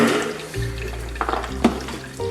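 Tap water runs steadily into a sink while soaked beans are rinsed, a close, even rush with a few light splashes and no talking.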